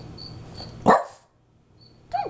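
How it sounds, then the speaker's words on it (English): A French bulldog gives a single sharp bark, then a short pause and a softer bark-like yelp, with faint insect chirps in the background. "Don't bark at me."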